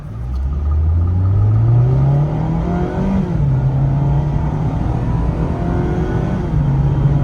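A 2023 Mazda MX-5 Miata Grand Touring with a 181-horsepower engine accelerates hard in sport mode, its engine note rising steadily in pitch and then holding a loud, sustained drone from inside the cabin.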